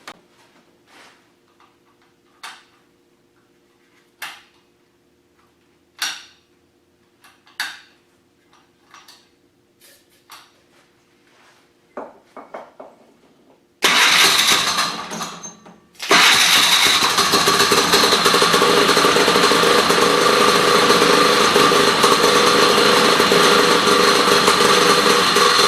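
A 1969 Sno Jet snowmobile engine: about fourteen seconds of sparse ticks and clacks, then a sputtering start, a brief drop, and a loud, steady two-stroke roar running continuously to the end.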